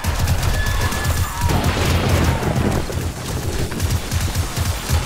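Turret gunfire rattles in the 7 Days to Die video game during a Darkness Falls horde night, a dense, loud barrage of rapid shots and booms that never lets up.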